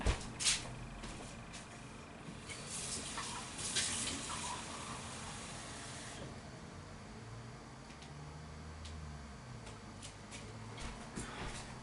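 Tap water runs steadily to fill a glass, a soft continuous splash and hiss with a few clinks and knocks near the start, no voices.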